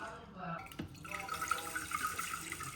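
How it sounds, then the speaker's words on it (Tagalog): Water poured into rice in a rice cooker pot for a low sugar rice cooker, a steady close trickling and splashing that runs for a few seconds with no talk. "Lagyan natin ng tubig."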